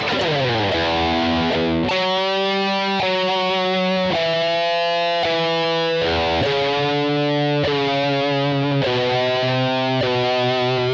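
A clean, dry electric guitar playing a riff with distorted sustained notes and chords, each phrase stopping abruptly with no echo or reverb tail.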